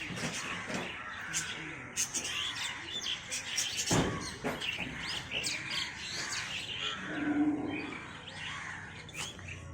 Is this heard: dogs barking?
no